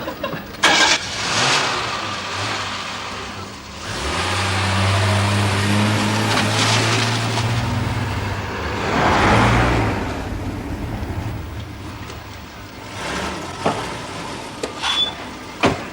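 An older car is driven at night on a road home, its engine note rising and settling through a steady drone and a louder surge midway, with a few bumps and clunks near the start and end.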